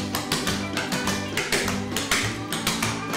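Clogging shoes strike a hard floor in quick, rhythmic dance steps, a steady run of sharp taps and double beats heard close and alone at a moderate level.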